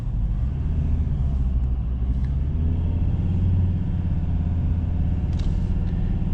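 A Ford Ranger pickup's diesel engine drones steadily from inside the cab while driving on a road near Pristina, a loud, even low rumble with no change in revs and no voices.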